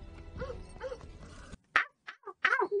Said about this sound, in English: Doggies! Woof, woof!